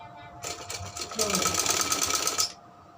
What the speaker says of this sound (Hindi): यहाँ पर सिलाई लगाएंगे।